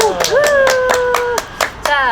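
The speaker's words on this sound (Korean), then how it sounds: "다시 한번 박수" A group claps in a brief burst of applause at a Korean talk show, several sharp overlapping claps close by while voices talk over them.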